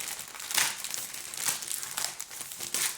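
Plastic wrapping crinkles and crackles in several quick bursts, close and fairly soft, with no voices.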